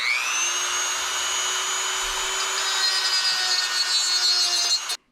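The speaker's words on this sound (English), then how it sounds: "And then I'm gonna take my Dremel and I'm gonna cut this off." A Dremel rotary tool cuts off the governor arm of a Predator 212 engine, giving a steady high whine that holds for about five seconds, rises slightly in pitch and then cuts out abruptly.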